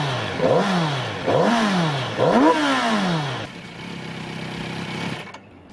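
A Kawasaki Z900 RS four-cylinder motorcycle engine is blipped three times in quick succession. Each rev rises and falls sharply, close and loud, and then it settles into a steady idle.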